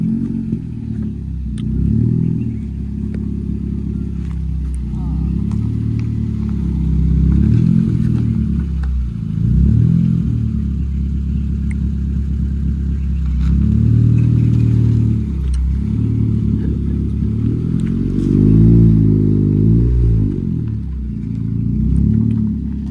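KTM RC 390 BS4 motorcycle being ridden, its engine droning loud and close with recurring rises and falls in revs over a steady low rumble, no talk.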